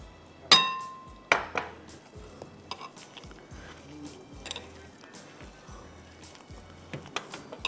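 A metal utensil mixes a potato mixture in a bowl for tandoori drumsticks. Two sharp, loud clinks come early, then softer irregular taps and scrapes against the bowl at close range.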